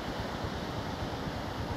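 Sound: strong sea waves crashing on a beach, Bình Thuận

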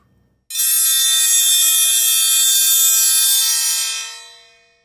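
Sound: large bronze triangles struck

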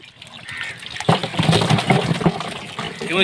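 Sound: small hybrid magur fish being released into a pond

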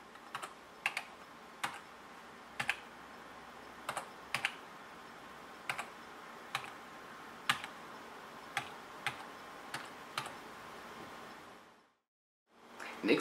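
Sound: computer keyboard typing note entry in Forte 7 notation software

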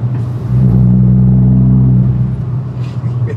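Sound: truck engine revving at full throttle

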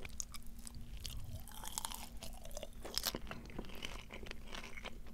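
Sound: crunchy fried chicken being chewed

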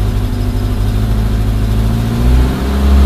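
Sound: Suzuki Samurai engine running with a Toyota carburetor

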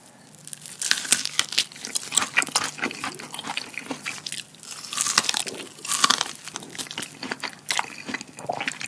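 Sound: eating crunchy corn topping on chicken

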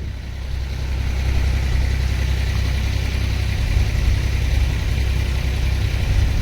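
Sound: tractor engine idling

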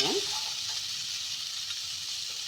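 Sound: frying ingredients in a pan for chickpea gravy

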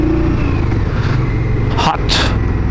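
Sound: Indian Scout 1200 motorcycle engine revving

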